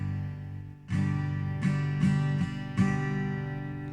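A guitar chord is strummed several times in a slow uneven pattern, each strum ringing out with sustained, decaying strings, played close and alone.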